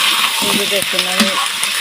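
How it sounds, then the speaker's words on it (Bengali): Meat dropped into onions frying in hot oil gives a steady close sizzle for about two seconds, with a few brief tonal scrapes of stirring on top. "আমি এখন এই পেঁয়াজের ভিতরে মাংসটা দিয়ে দেব, কারণ মাংসটা আমি একটু ভেজে নেব"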